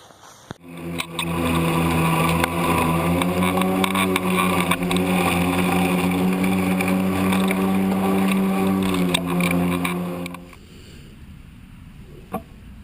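A Kobalt 40V Max dual blade cordless lawn mower cuts grass with a bag attached, a steady loud motor hum for about ten seconds before it stops abruptly.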